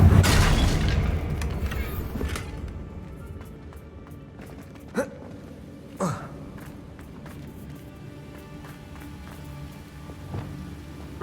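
A Confringo blasting spell explodes in the Hogwarts Legacy video game, opening with a loud close boom that rumbles and fades. A few faint thuds and crackles follow against quiet ambience.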